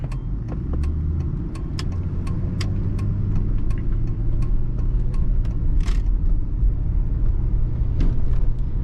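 A 1997 Lincoln Town Car Cartier driving on a bumpy road, steady low engine and road rumble heard from inside the cabin, with scattered rattles and clicks and no talking.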